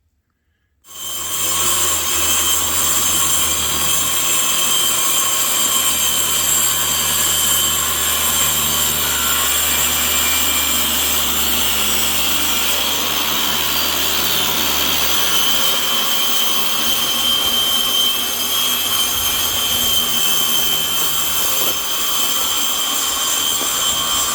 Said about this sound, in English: So I'm going to cut up this MDF, and I'm going to lay it in this area.